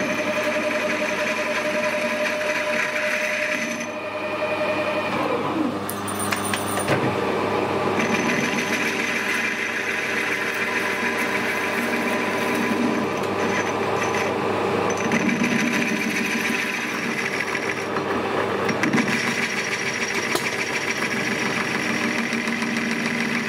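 A machine tool machines aluminium, a sustained loud mechanical whine with a steady motor drone, shifting tones and a sliding pitch as the cut changes, with short high squeals near the start.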